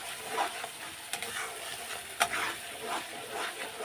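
Spice masala sautéing in a pan for jackfruit and prawn curry, a continuous bright sizzle broken by a couple of sharp spatula clacks and stirring scrapes, close and alone.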